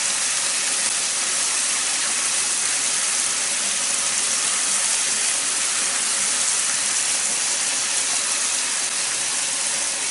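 A steak sizzles loudly in a hot pan, a dense, unbroken frying hiss held close and steady throughout with no talk over it.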